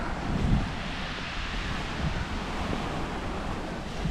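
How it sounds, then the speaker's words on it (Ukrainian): Rough sea on a stormy, rainy morning along the Istrian coast: a steady, loud wash of surf and gusting wind that buffets the microphone, with no voices. "Моречко хвилюється."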